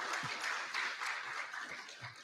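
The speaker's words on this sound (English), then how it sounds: "can we give Engineer Tanui another round of clap?" Quiet applause from an audience at a conference plenary session, a thin, somewhat distant patter of clapping lasting a couple of seconds.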